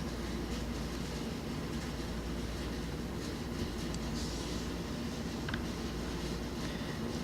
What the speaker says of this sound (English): great sounds that these trains put out